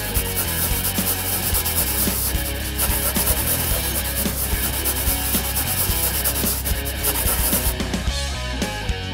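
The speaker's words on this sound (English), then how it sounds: "Panler, get to scratching so we can find the ending!" A coin scraping the coating off a scratch-off ticket, producing a close, continuous gritty rasping with small scratchy bursts throughout, and no voices heard.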